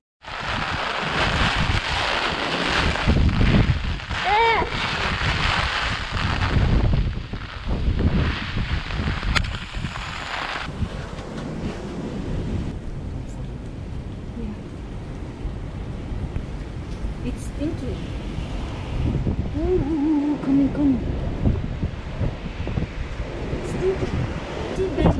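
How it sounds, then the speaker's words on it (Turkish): Strong typhoon wind in Tokyo roars and buffets the microphone throughout, with water churning and people's voices calling out over the gusts. "Rüzgarın gücünü görebiliyor musunuz?"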